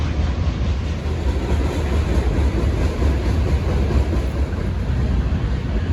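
A train rolls past a Kentucky woodland during an early-season deer hunt, its steady, loud rumble and rail clatter filling the whole stretch without a break.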